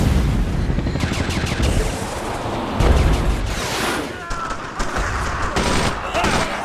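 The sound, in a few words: gunfire in video game Brothers in Arms: Road to Hill 30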